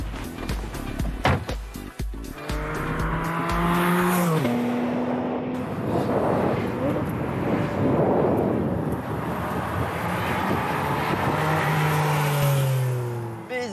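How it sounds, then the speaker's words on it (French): The mid-mounted naturally aspirated engine of a Porsche 718 Spyder RS barks through a few sharp blips, then climbs in long, loud rising revs toward its high redline, with shifts and repeated surges, close and dominant. "une mécanique atmosphérique qui chante, qui vous envoûte jusqu'à 9000 tours minute"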